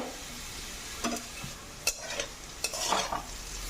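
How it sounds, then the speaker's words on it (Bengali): Potato pieces fry in a pan while a spatula stirs them, several distinct scraping strokes over a low, soft sizzle; close and fairly quiet, with no voices. "আলুটা কিন্তু ভাজা হয়ে গেছে"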